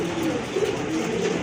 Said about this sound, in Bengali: খুবই অ্যাক্টিভ কবুতর, প্রচুর ডাকে কিন্তু